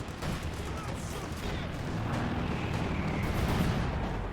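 Distant rumbling gunfire and explosions from a Company of Heroes 2 battle, a dense continuous wash of combat with muffled booms.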